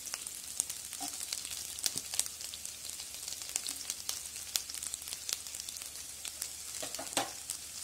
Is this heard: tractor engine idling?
no